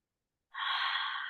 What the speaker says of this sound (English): Take 2 or 3 deep breaths in and out